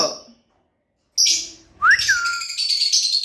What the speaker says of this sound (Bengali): এখানে একটা ময়না পাখি রয়েছে কথা বলা ময়না